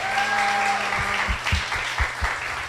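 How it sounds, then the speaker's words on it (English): An audience at a BASE Talks event claps in steady applause, dense and fairly close, with a tone and some voices mixed in early on and a few louder individual claps standing out. "give these guys a round of applause"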